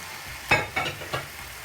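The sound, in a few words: chicken stir frying in a pan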